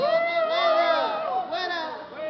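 A crowd at an evening gathering cheers, whoops and shouts together, with excited voices and children's cries overlapping loudly and continuously throughout, no clear clapping standing out.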